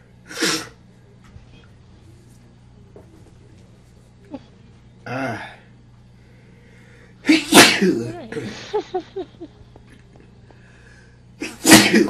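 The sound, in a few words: sneeze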